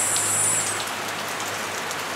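Steady rain falling on surfaces in Costa Rica, a soft, even hiss of drops that holds at a moderate level throughout without any voices.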